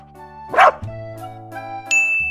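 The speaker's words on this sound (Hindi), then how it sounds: "डॉग मीन्स कुत्ता।" A single sharp dog bark rings out against a bright musical backdrop of sustained synth tones and a chime, with the bark brief and prominent near the start.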